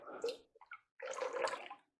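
Warm water is poured into a bowl for pizza dough, two short splashing pours with a brief gurgling drip between them, close and moderately loud.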